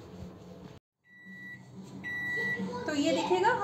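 A microwave oven signals that it has finished preheating for baking chocolate lava cakes with two bright electronic beeps, followed by louder kitchen clatter and background noise.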